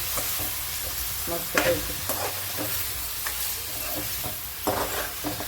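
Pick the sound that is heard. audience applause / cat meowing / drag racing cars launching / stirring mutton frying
stirring mutton frying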